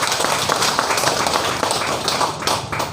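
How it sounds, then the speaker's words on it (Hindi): An audience at an indoor DXN family gathering in Ranchi claps for new guests: loud, close, dense rapid applause that holds steady through the whole stretch. "नए मेहमान लोगों के लिए एक बार जोरदार ताली।"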